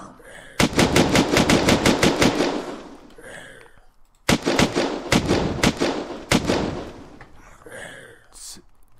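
Heat Wave LMG firing in Unturned, in two long sustained bursts of rapid loud automatic fire separated by a short pause, with a voice speaking faintly in between.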